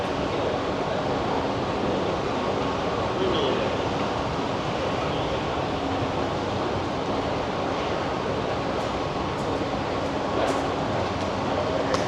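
A steady rumbling wash of train noise fills a crowded Thai railway station, with a broad hiss and faint clanks, no clear voices standing out.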